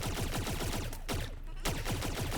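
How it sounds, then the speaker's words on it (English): Rapid gunfire from the Z7 Imp in a video game, a fast, steady stream of shots at maximum rate that breaks off briefly midway and then resumes, loud and close. "shooting, you're gonna be able to reach the max rate of fire"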